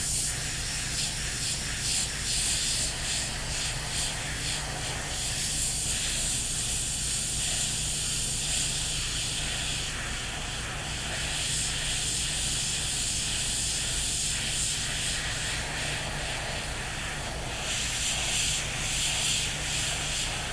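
A steady hiss of an airbrush spraying paint onto a dollar store holiday ornament runs continuously and fairly quiet, with slight fluctuations as the spray is worked.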